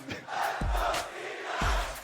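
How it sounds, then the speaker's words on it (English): Esports arena crowd at the League of Legends Worlds 2022 group stage in a T1 vs Cloud9 match, cheering and roaring loudly in swelling waves, no talking. "The crowd is popping off."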